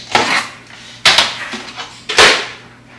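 Metal pans and kitchenware clatter and clank in three distinct bursts, each a sharp clash followed by lighter rattling, close by at moderate loudness with no talking.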